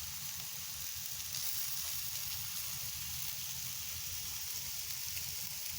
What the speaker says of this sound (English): see if you can hear the sizzling.